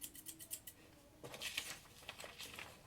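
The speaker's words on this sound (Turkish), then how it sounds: "Şimdi bu şeklimizi kesiyoruz. Makas." Scissors snipping a paper shape, a series of small crisp cuts in quick uneven bursts, close and quiet, with no talking.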